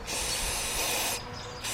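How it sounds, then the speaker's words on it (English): Aerosol carburetor cleaner sprayed onto the 2.0 engine of a 2014 Volkswagen Beetle, a steady close hiss running almost two seconds with a brief dip partway through. "Let me get some more carburetor cleaner and spray that up."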